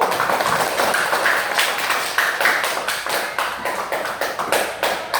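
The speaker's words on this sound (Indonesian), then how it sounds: "Tepuk tangan dulu ke satu." A class of students applauds a group that has just presented, a loud, continuous burst of many close claps that holds steady for several seconds.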